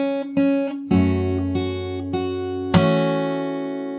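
Slowly played fingerstyle acoustic guitar, chords rung with percussive thumb slaps on the lower strings, a handful of distinct attacks spaced apart, ending in a louder strummed chord that decays, no talking.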